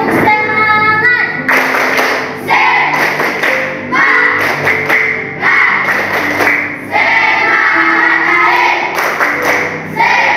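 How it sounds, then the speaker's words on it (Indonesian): Schoolchildren in a classroom clap a rhythmic spirit-clapping chant together, loud and close, with bursts of clapping in repeated patterns broken by short pauses and chanted voices mixed in throughout. "Maka kita akan masih melakukan yel-yel tepuk semangat"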